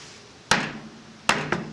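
Hammer blows seating key rail pins in a 130-year-old piano under rebuild: three sharp metallic taps, one at first, then a quick pair about a second later, close and fairly loud with short ringing tails.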